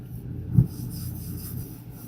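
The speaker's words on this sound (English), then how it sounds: "the whole thing is now wet so that I can begin cleaning my desk" A wet microfiber cloth wiping across a desk, a soft, close rubbing stroke with one brief firmer swipe in the middle, alone without talk.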